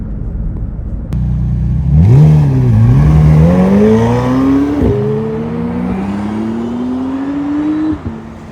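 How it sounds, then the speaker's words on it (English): Orange McLaren Senna and white McLaren Artura moving through city traffic, a loud close engine note climbing through several gear changes, each rise in pitch briefly dropping before building again, with no speech. "In traffic with the orange Senna and a white Artura, both the same owner."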